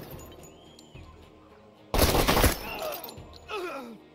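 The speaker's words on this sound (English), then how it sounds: "Allied militia is shooting at them, so that's good." Allied militia open fire in Door Kickers 2: a loud, short burst of automatic gunfire cuts in about halfway through and is followed by fainter shots, with quiet game ambience and chirps around it.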